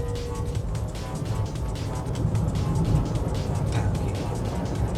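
A Chery V23 boxy electric SUV accelerates hard from a standstill, a steady rumbling road and wind roar heard from inside the cabin that swells slightly as speed builds, with no talking.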